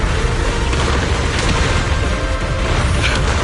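Explosions in the action video game Zenless Zone Zero, a loud, dense, continuous wall of booming blasts and crashing debris with no pauses, staying at full intensity throughout.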